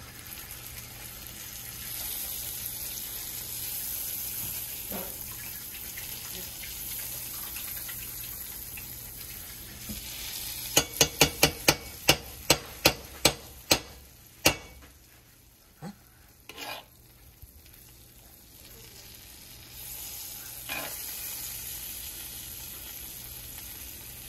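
Butter sizzles in a hot pan on the stove for a salmon and pineapple dish, a steady frying crackle with a quick run of sharp clinks midway.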